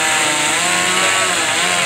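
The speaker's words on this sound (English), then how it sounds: "What are we running out there? Are we running steel chainsaws?" Husqvarna chainsaws running at a carving site: a loud, continuous close engine whine with steady buzzing drone, no pauses and no voices.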